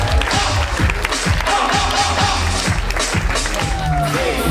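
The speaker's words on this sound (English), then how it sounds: "Give godmother legendary a round of applause." A ball crowd claps and cheers for Godmother Legendary, steady rhythmic applause and stomping filling the room over loud thumping music, with some voices mixed in.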